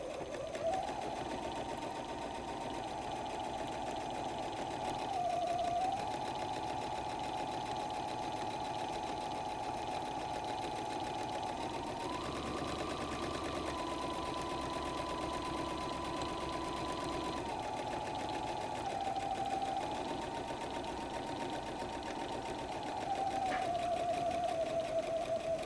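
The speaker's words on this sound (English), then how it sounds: "I'm going to go ahead and stitch in the ditch" A sewing machine runs a long, steady straight stitch in the ditch on a messenger bag, with center needle position and backstitching. The hum is continuous and close, with a few brief dips in pitch and speed as it slows and restarts.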